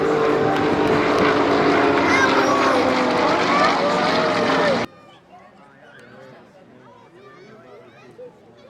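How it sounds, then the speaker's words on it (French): Propeller aircraft flying in close patrol formation at the Biscarrosse air show drone loudly overhead with a dense, sustained engine roar, then cut off abruptly to a much quieter stretch; an announcer's voice is present. "Les avions sont en patrouille serrée, on voit bien la différence de taille entre les deux."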